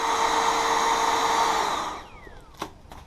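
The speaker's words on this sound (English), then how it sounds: "I'm also going to use this blower thing here. You hold down on it. It's very, very powerful, as you can tell." A powerful handheld air blower, used for cleaning an Alienware Aurora R10 desktop PC, roars with a loud, steady high-pitched whoosh for about two seconds, then is released and spins down, followed by a few faint knocks.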